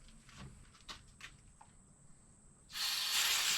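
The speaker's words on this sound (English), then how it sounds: "A little of this professional brake parts cleaner here." Brake parts cleaner sprays from an aerosol can onto a part from a 1998 Mercedes C230. After a few soft clicks and handling noises, one loud, sustained hiss starts and continues to the end.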